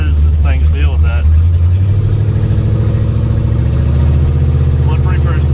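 The engine of an abandoned Pontiac, back on the road after 48 years, runs rough and floods, a loud, close, uneven rumble that holds throughout, with brief bits of talk near the start and end.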